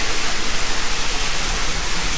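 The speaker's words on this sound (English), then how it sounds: "Oh, waterfall." Water gushing and splashing loudly and steadily from a waterfall spilling onto a waterslide at Hurricane Harbor Oaxtepec water park, a close, dense broadband rush throughout.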